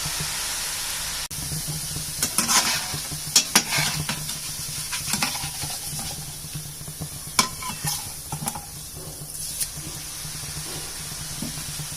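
Omapodi fries in hot oil in a pan, a steady close sizzle broken by sharp crackles, pops and utensil clinks as the strands are turned, with no talk.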